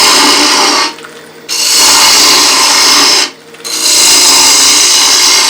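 A woodturning bowl gouge with a swept back grind cuts into a spinning wood bowl blank on the lathe, a loud steady hissing roar broken by two short pauses where the tool lifts away.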